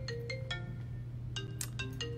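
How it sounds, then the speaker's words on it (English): A mobile phone ringtone plays a bright repeating melody of short electronic notes, moderately loud over a low steady hum, with no talking. "That was my son's phone."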